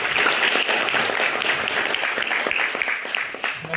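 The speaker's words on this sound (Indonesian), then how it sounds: "Boleh tepuk tangan paling keras." Schoolchildren and audience clapping as loudly as they can after a resilience activity, a dense, sustained burst of applause that holds steady before easing slightly at the end.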